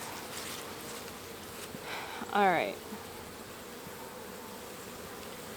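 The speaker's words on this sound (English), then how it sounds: "Holy cannoli, a lot of bees." Honey bees from a healthy, busy Apimaye hive drone in a steady low background hum, with a brief voiced exclamation rising over it midway.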